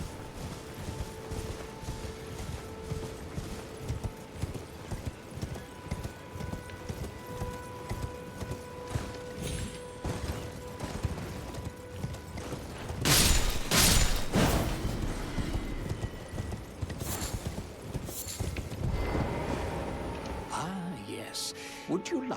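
Rhythmic clip-clop of a horse galloping in Elden Ring, a steady hoofbeat pattern running the whole time with a louder burst of game effects partway through, voices talking over it.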